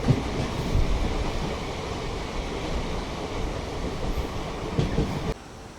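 India's first hydrogen train on the Sonipat to Jind run rolls along with a steady, loud rumble of wheels and carriages, an unbroken rail roar that drops off sharply near the end.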